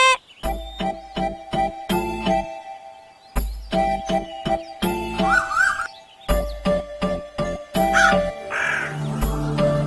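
Cartoon crows cawing in rapid, loud bursts over chimes and musical tones, with short pauses between groups of calls.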